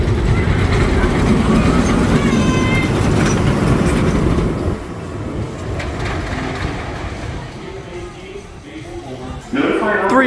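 Rumbling, rattling ride on the Steel Force roller coaster at Dorney Park, a loud continuous roar of the train on track that eases off and then surges again, with riders talking and shouting over it.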